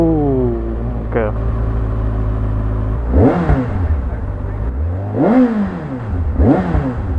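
Kawasaki Ninja ZX6R motorcycle engine idles steadily, then revs up hard in three loud, rising accelerations through the gears, close and clear, with rider speech underneath.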